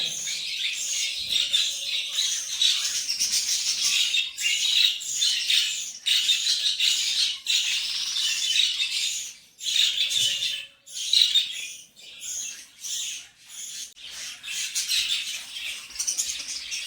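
Pet birds kept in a home collection squawk and chirp continuously, with shrill overlapping calls, occasional louder bursts and some wing flutters, fairly close and with no one talking.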